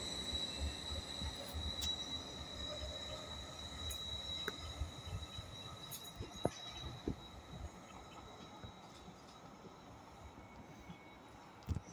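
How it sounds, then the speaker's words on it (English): Great Anglia Class 755 unit on an Ipswich to Bury St Edmunds service running past at Stowmarket, a low continuous rumble with a faint high squeal and occasional clicks, rather distant and quiet. "We've got 755-402 on a Great Anglia service to Bury Edmunds from Ipswich."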